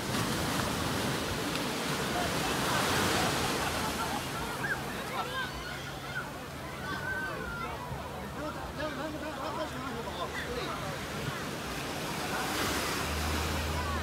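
Ocean waves wash continuously onto a busy holiday beach at Yangmeikeng in Shenzhen, a broad steady surf roar mixed with wind noise on the microphone, with people talking around it.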